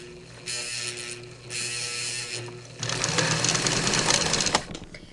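A Singer 237 sewing machine stitches through a thick face mask tie in two short whirring runs, then a louder, rougher, sustained stretch as the needle labors, all close up with no talking.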